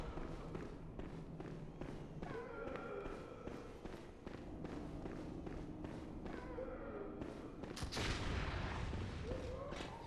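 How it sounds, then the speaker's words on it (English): Gunfire in the Bloodborne video game: repeated sharp shots crack through a busy game soundscape, with a louder burst near the end and a voice talking underneath. "Don't know who's shooting me"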